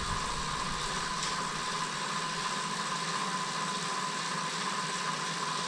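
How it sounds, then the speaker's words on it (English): Steady hum and whir of a DIY bicycle generator's field coil motor running at constant speed, an even, unbroken drone with a faint tonal whine and no speech. "So this is the field coil engine."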